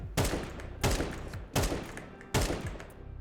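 Four evenly spaced gunshots from a rifle in Counter-Strike 2, each a sharp, loud crack with a short reverberant tail and a brief pause before the next, fired one at a time with no talk.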